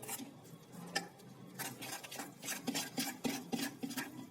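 Khandvi batter being stirred with buttermilk in a bowl, with soft, faint scraping and a run of quick, evenly spaced ticks of the spoon against the bowl.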